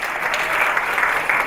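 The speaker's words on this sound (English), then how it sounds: "Let's give you a round of applause" At a political satire comedy event, the audience gives a round of applause, a dense, steady wash of many hands clapping, fairly loud and even across the short burst, with no talk over it.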